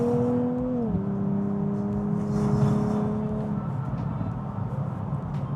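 A Nissan Z Nismo accelerates, heard from the cabin as a steady engine drone whose pitch drops once, as if shifting gear, then holds under light road noise.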